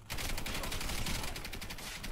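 Rapid gunfire from a Stechkin APS pistol in the video game Warface, a dense burst of shots running together at a quiet level.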